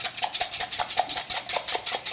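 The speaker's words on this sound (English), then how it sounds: "really give it a good whipping. You can use a whisk of any kind" A whisk beats popover batter in a bowl with quick, steady rhythmic strokes, each one a close, bright clicking tap against the bowl, repeating about four times a second.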